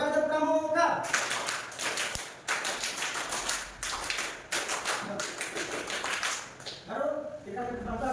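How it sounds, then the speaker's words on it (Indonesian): Scout clap performed by a group, a series of quick rhythmic claps in patterned bursts with short pauses between, bracketed by a voice talking before and after. "Dua kali tepuk pramuka."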